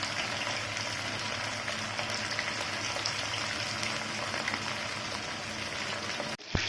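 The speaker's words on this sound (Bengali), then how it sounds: "তেল মোটামুটি গরম হয়ে আসলে আমরা চিকেনগুলোকে ছেড়ে দিব ভাজার জন্য।" Chicken pieces fry in hot oil, producing a soft, continuous bubbling sizzle at low volume that runs unbroken until a short clatter at the very end.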